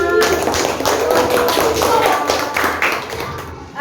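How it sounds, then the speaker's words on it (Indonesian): Children in a classroom clap hands together in quick, loud, rhythmic bursts, many hands at once, close and continuous for a few seconds with faint voices underneath. "Tepuk tangan."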